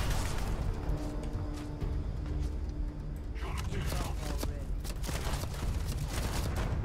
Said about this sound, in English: He keeps throwing grenades at me.